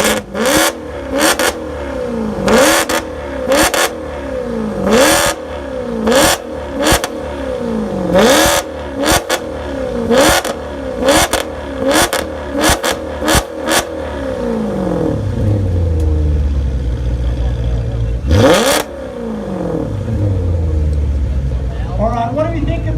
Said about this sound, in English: what do we think of the crackly, noisy Maserati?